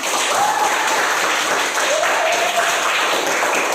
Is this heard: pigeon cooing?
no